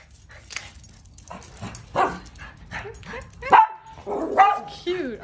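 A dog barks and yips in a series of short, irregular bursts nearby, with a person talking between the barks.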